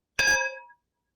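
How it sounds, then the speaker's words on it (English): A single bright bell strike rings out with a sharp onset, its metallic tone decaying over about half a second into silence. "Should we ring the bell?"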